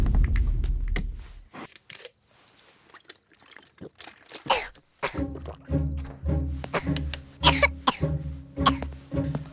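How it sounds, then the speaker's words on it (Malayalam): A child coughs in a scene from the 2011 Tamil film Deiva Thirumagal, a run of sharp, close coughs after a quiet stretch, set over low background music and room sound. "എന്താ ചുമക്കുന്നത്? പനിയുണ്ടോ?"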